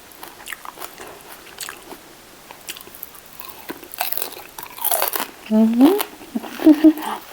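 Close crunchy bites and chewing of crispy fried pork belly with papaya salad, scattered crackly crunches rising in loudness, with a voice briefly making sounds near the end.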